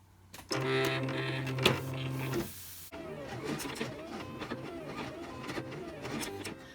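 A vinyl cutting machine loads a cutting mat at a crafting table for a glitter heat-transfer T-shirt project, giving a steady motorized whir, then a softer clicking, rolling mechanical hum up close.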